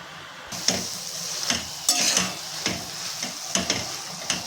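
Finely chopped fenugreek leaves sauté in a pan for methi bhaji, with repeated spatula scrapes and taps in a loose rhythm over a soft, continuous sizzle, close by and with no talking.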